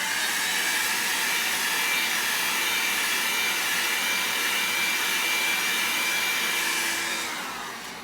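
A hair dryer blowing alcohol ink dry on paper, a steady, loud whooshing hum running without a break, easing off slightly at the end.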